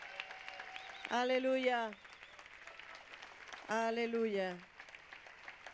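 A church congregation applauds as a steady, fairly soft wash of clapping that runs beneath two drawn-out sung calls from a single voice.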